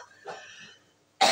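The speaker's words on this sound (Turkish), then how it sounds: "Biberden öksürdüm bu arada." A short, sharp cough at the end of a quiet moment, brought on by pepper in a home dinner, following faint murmuring; a single harsh burst close to the microphone.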